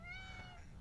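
A female cat meows once, a drawn-out, clear call heard close by over low background rumble.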